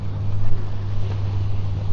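A steady low rumble of boat engines in Sydney Harbour, with wind buffeting the microphone.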